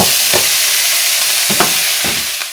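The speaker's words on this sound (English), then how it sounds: "In a separate skillet, I crumbled 1 pound of sausage into very small pieces and browned it over medium heat" Crumbled pork sausage browning over medium heat in a skillet, a steady close hiss of frying with a few soft scraping stirs.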